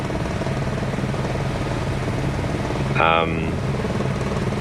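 Helicopter engine in Microsoft Flight Simulator 2020, a steady rotor and turbine drone holding throughout, with a brief brighter whine swelling around the middle of the stretch.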